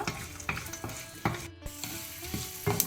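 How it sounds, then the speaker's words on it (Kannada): Cashews and peanuts fry in ghee for ghee poha, a busy close sizzle with repeated stirring scrapes and light clinks against the pan, no voices. "ಗೋಡಂಬಿ, ಇದನ್ನೆಲ್ಲ ಹಾಕಿ ಒಳ್ಳೇದು ಮಾಡಿ ಕಾಯಿಸುವ."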